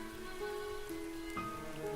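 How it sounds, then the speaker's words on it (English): Steady rainfall hisses softly beneath gentle sustained musical tones, with no voices. "The sound of rain and I have a special connection"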